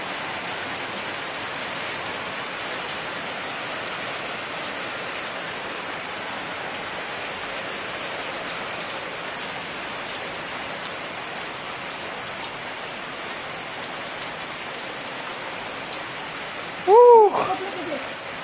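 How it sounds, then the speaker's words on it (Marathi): Rain falls steadily for a long stretch, a broad even hiss of drops on surfaces, with a short burst of a voice near the end. "मस्त चालू आहे पाऊस."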